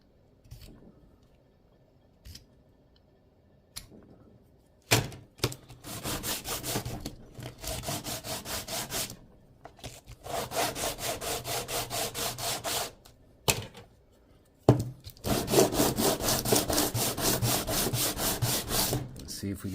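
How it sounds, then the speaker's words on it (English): Bursts of rhythmic back-and-forth sanding on plastic kitbash model building parts, fast scratchy strokes in several runs separated by quiet pauses and light taps, close up with no talking. "So you knock down your flashing with your chisel knife first,"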